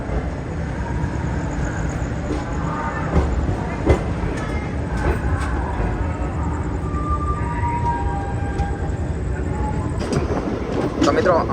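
A train pulls away from Ahmedabad junction, a steady rolling rumble with scattered clicks and knocks of the wagons, heard from on board, with faint background voices now and then.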